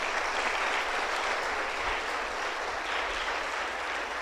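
Church congregation applauding during a sermon, a steady dense wash of many hands clapping, moderately distant and fairly quiet, with no voices standing out.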